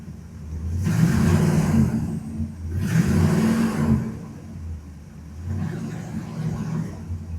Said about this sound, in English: So we're going to give it some gas.